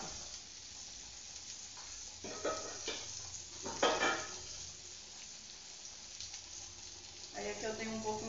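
Cooked, washed beans tossed into a hot pan start a soft sizzle with clattering stirring and pan knocks, a few louder bursts rising above a steady frying hiss.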